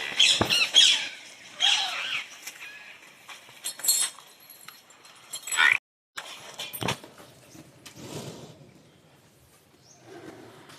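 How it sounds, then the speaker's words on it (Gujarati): Birds squawk and chirp in early morning in a village, in scattered bursts, some near and sharp, others fainter, with quiet pauses between calls. "પક્ષીઓનો કલરવ વહેલી સવારે"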